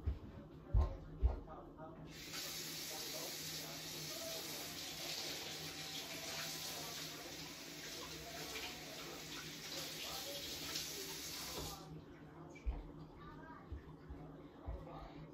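Tap water runs steadily for about ten seconds to wet a napkin while painting rocks, starting and stopping cleanly, with a few knocks and handling sounds before and after.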